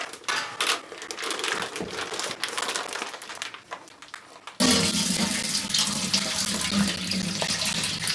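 Wine must from a bag poured into a container during home winemaking prep, a steady wet gushing splash that starts abruptly midway and continues loud, after a quieter stretch of rustling and handling noises.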